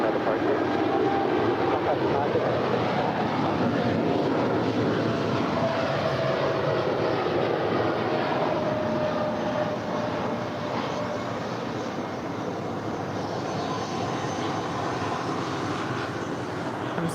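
Cathay Pacific Cargo heavy jet taking off at LAX, a sustained loud engine roar with a rising whine that slowly fades as it climbs away, with talk over it.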